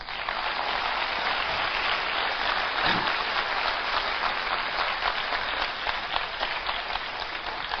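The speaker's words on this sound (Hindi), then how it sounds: "तो वैसी ताली बजा दो एक बार।" A large audience at an Amway motivational seminar breaks into sustained applause. The dense clapping carries on at an even, loud level for about eight seconds, with no break and no speech.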